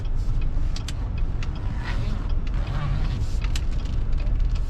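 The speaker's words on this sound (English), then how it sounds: "So we're going to do some backwards driving using the backup camera." A 2018 GMC Yukon XL SUV backing into a parking space, its steady engine and road rumble heard from inside the cabin, loud and continuous, with a voice speaking over it.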